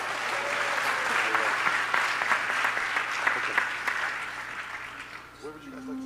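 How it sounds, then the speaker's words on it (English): An audience at a retreat applauds steadily for several seconds, a dense wash of clapping that tapers off near the end, with voices faintly underneath. "Let's have a round of applause for Gora."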